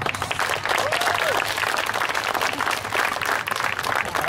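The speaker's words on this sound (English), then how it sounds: "let's give them a great round of applause. Let's see if we can practice that." An audience claps together as a practice round of applause, a loud continuous wash of many hands with cheering voices mixed in, holding steady throughout.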